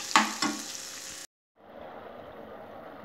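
Tomato pizza sauce being stirred and cooked in a pan on the stovetop for a chicken pizza: two quick scraping stir knocks over a steady sizzle, a brief silent break, then the soft frying hiss resumes alone.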